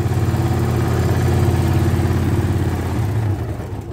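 A Landmaster LM650 utility vehicle engine runs steadily at idle just after a cold start in sub-freezing weather, a loud, continuous low rumble that dips slightly near the end.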